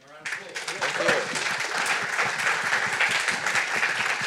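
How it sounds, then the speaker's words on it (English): An audience claps after a talk at a startup funding event, dense applause building quickly and holding steady, with a voice speaking briefly near the start. "Give him a round of applause."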